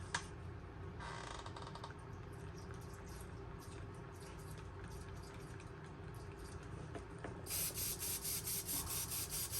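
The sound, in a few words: spray painting a fishing lure with deep purple candy paint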